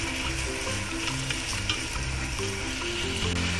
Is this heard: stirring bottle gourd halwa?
yes